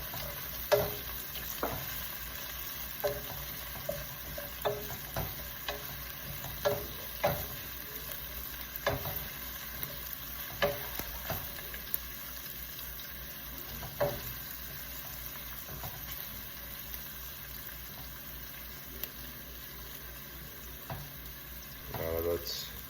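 Piperade with thyme cooking down in a pan, a soft continuous sizzle under scattered clicks and scrapes of stirring, close but quiet, with no voices.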